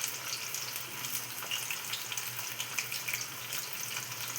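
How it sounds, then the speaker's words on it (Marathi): Marinated chicken 65 pieces fry in hot oil over a medium flame, giving a steady, dense sizzle and crackle that stays level throughout without any talk. "हे कमीत कमी 5 मिनिटं मीडियम गॅसवरती चांगल्या प्रकारे तळून घ्यायचं आहे."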